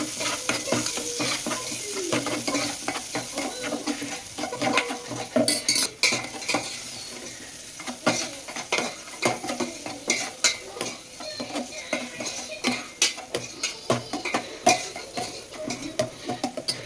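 Onion frying in about two spoons of oil in a pan for a chicken dish, with a steady sizzle and a metal spoon repeatedly scraping and stirring in irregular clatters, close and loud.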